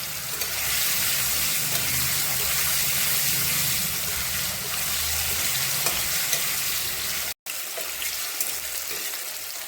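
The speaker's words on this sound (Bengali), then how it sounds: "পনিরটা হালকা করে একটু ভেজে নেব, বেশি একটা ভাজা করব না।" Paneer pieces fry lightly in oil that has become very hot, giving a loud, steady broadband sizzle that runs without pause and cuts out only for a brief moment near the end.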